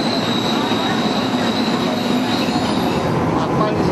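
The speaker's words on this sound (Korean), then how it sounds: "무서운 속도로 달려오는 지하철에 놀라 뒤로 물러서고" A Seoul subway train rushes into the station at speed, a loud close roar of rolling wheels and rail noise with a high squeal running steadily throughout.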